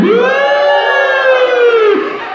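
Children's group at an outbound team game session jeering a losing team, a single long, loud, sustained drawn-out shout from many voices held in unison for about two seconds, close by.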